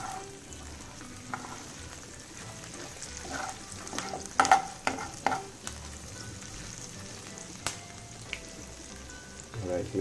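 Prawn fry with green chili being stirred in a pan: soft sizzling under scattered scraping knocks of a spoon, louder clatters clustered midway, steady background frying hiss throughout.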